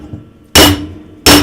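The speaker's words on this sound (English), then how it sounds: "when you're doing something like this, you got to be really deliberate about your hammering or the metal's just going to get hard." Two hard, ringing hammer blows strike metal being worked until it hardens, each a loud, sharp impact with a bright metallic ring that decays briefly, spaced under a second apart.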